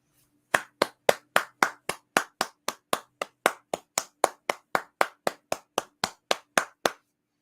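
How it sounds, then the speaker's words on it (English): A single person claps steadily, about twenty crisp, close claps at an even pace with brief silences between them. "Round of applause for Chandler Jones."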